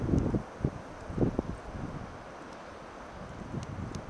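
Wind blows past a hollow in a mountainside above a vineyard, gusting in rough, rumbling bursts against the microphone, strongest at the start and again around the middle, then fading to a low steady rush.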